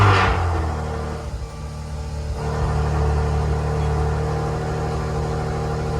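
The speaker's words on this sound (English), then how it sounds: "Start the car." A Maserati Ghibli engine starts up after a battery change, a brief cranking burst settling into a steady, low idle rumble close by.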